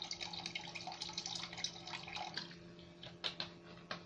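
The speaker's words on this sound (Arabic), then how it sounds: "واجيب برضو ايه شويه خل كده اهوت، احط كده ايه حبه خل" Vinegar poured into water for a homemade carpet shampoo, a faint, steady trickle and splash with a few soft drips, close by and without talk.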